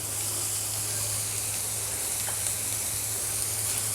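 Chopped capsicum frying in oil in a pan, a steady close sizzle and hiss that holds evenly from start to finish with no talking.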